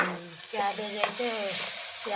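Shredded cabbage frying in a pan with salt, a soft steady sizzle with light stirring scrapes, close and fairly quiet, with no voices.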